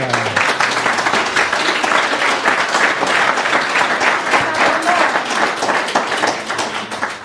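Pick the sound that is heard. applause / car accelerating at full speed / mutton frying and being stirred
applause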